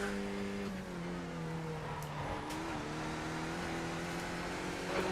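Race car engine drone in a Skip Barber sim race at Belle Isle, a steady sustained tone with gear-change pitch shifts throughout, alone without talk.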